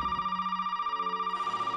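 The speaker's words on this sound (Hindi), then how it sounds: "ये फ़ोन की घंटी बज रही है" A telephone rings in the Resident Evil 7 horror video game, a single steady electronic trill with rapid warbling pulses, moderately loud and alone with no talk.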